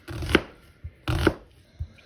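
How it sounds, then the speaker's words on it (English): Close knife chopping onions on a cutting board for lasagna, two firm sliced strokes each ending in a sharp knock, with lighter taps between, no talking. "So she's cutting up some more."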